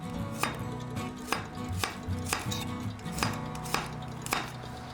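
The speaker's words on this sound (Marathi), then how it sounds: "मी इथे थोडं आलं घेतलं आहे जे असं आपल्याला रफली कापायचं आहे" A knife roughly chopping fresh ginger on a cutting board, sharp regular strokes about every half second, close and fairly loud over quiet music, with no voices.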